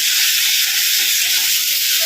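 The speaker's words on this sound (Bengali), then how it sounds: "চলো পটল দিয়ে সর্ষে বানাবো বলে পটলগুলো ভাজতে বসিয়ে দিই" Pointed gourd (potol) pieces fry in hot oil with a loud, steady, close sizzling hiss that holds unbroken throughout, with no talking.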